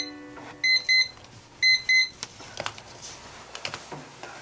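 A timer alarm goes off at the end of a 20-minute work interval, sounding two pairs of bright electronic beeps about a second apart. Faint clicks and handling noises follow in a quiet room.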